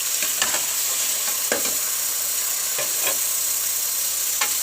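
Chicken pieces frying in a pot for haleem, a steady loud sizzle with intermittent scraping stirs of a spoon against the pot, no voices.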